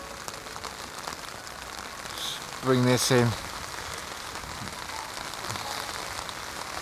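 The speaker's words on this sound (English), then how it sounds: "The rain is really hammering down now" Heavy rain falls steadily on a riverbank while fishing on the River Thames, a constant diffuse patter throughout, with someone speaking briefly over it near the middle.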